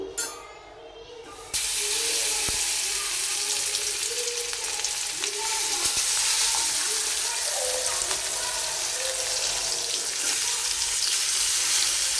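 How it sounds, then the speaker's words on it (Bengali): Hilsa fish fries in hot oil in a wok, a steady close broadband sizzle that starts abruptly after a quieter opening and continues evenly with small crackles throughout. "এখন আমি কড়াইয়ের ভিতরে তেল দিয়ে দিছি ইলিশ মাছ ভাজার জন্য"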